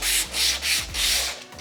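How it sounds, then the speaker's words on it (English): Sandpaper rubs rhythmically across rocket fins to smooth them, four to five close, loud, even strokes with brief pauses between, no talking. "I can just sand it down flat"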